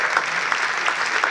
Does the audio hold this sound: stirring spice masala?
no